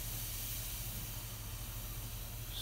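Steady steam hiss from a hot, water-soaked rag pressed onto a glued piano key front, a continuous broadband rush with a low rumble beneath, close and fairly faint, no talking.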